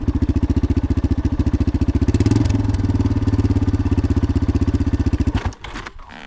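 A dirt bike engine putters at low speed through a wide turn, a loud, close, even pulsing beat that dips briefly before cutting off near the end.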